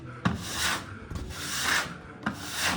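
Dry popcorn ceiling texture being scraped off, heard as three harsh, rasping scrape strokes spaced about a second apart, close up and loud with no talking.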